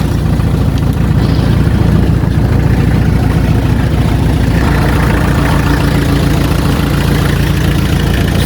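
An engine at a junkshop runs loud and close with a dense, rough low rumble throughout, its knocking hard to pick out beneath the constant churn.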